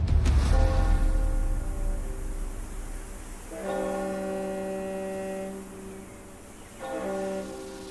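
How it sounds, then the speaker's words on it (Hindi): Three long, tonal horn blasts from a small ship near a river sound at a distance, each several seconds, over a low steady hum. "दूर से किसी छोटे शिप का हॉर्न है, नदी के पास है कहीं।"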